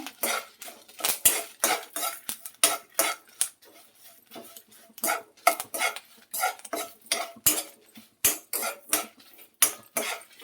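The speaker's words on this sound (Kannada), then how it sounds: "ಸಣ್ಣ ಉರಿಯಲ್ಲಿ ಹುರ್ಕೊಳ್ತಾ ಇದ್ದೀನಿ" Sesame seeds, urad dal and coriander seeds are dry-roasted in a pan over a low flame, giving a steady run of close scraping and rattling stir strokes in a repeating rhythm, with no talking.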